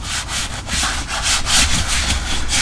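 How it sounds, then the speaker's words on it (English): Leatherique conditioner is rubbed into the leather seat of a BMW E92 M3. Loud, close rhythmic wiping and rubbing strokes repeat roughly every quarter second, with no speech. "I'm just gonna wipe it in, massage it into the leather."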